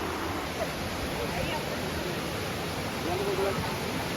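Water rushes in a continuous broadband roar near a bathing spot. The sound is steady and fairly close, and faint murmurs rise briefly over it.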